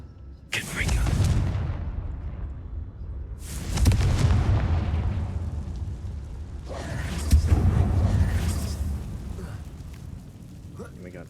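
Three heavy explosive blasts from the Confringo spell in the video game Hogwarts Legacy, each a sudden loud boom fading into rumble a few seconds apart, with a voice speaking between them.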